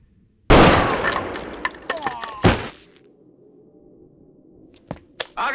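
Gunfire in the climax scene of the Hindi film Sholay: a loud, dense burst of shots and rattling fire lasting about two seconds, then quiet, with a few sharp cracks near the end.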